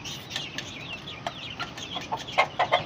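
Aseel chickens cluck close by in a series of short, sharp clucks that grow busier and louder toward the end, with no talking.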